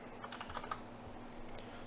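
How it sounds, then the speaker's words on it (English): Computer keyboard keys are tapped while entering switch configuration commands in the GNS3 network simulator, producing a quiet cluster of quick, light clicks with a short pause before a few more keystrokes. "I'm going to type in switchport mode access"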